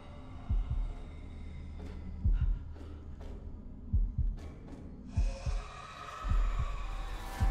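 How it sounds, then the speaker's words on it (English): Heartbeat from the horror game Man of Medan, with deep thumping beats in irregular pairs at close range, playing alone with no talk. "I think I'm gonna do that heartbeat thing."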